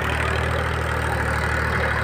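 A Mahindra 265 tractor engine running steadily with a tiller attached in top gear, a continuous low diesel drone with an even mechanical hum and no pauses.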